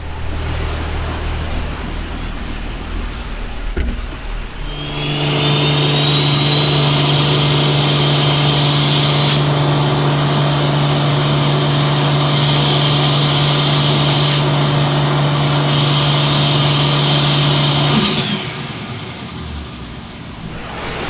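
A car engine on a dyno fitted with a see-through intercooler, warming up and then held at a steady, loud high-revving drone for about thirteen seconds with a rising turbo whine, before dropping back off.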